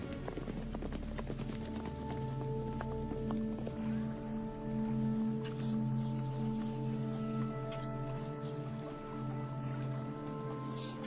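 Horse hooves clip-clop on the ground in a quick uneven rhythm, somewhat distant and soft beneath a sustained musical drone.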